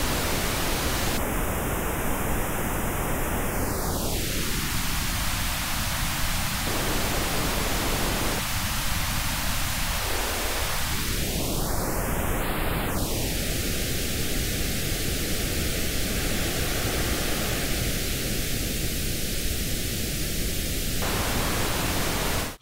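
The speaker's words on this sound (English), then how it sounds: "Here's how a notch filter sounds." Steady pink noise hisses through a notch filter whose cut sweeps slowly down, up and back to a fixed point, continuous and loud throughout.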